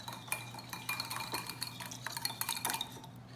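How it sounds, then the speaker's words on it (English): Tuna tartare sauce is whisked in a bowl, a quick run of light close clinks and rattles of the whisk against the sides, with soft liquid stirring underneath. "Just gonna mix it all up."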